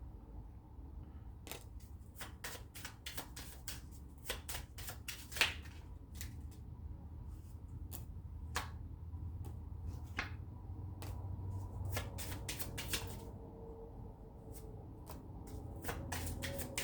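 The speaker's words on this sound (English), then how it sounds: "I just got my bicycle deck here. I'm gonna pull up a couple cards." Bicycle playing cards being shuffled and pulled from the deck, a run of crisp riffling clicks and flicks close up, some bursts fast and clustered, others single, over a low steady background hum.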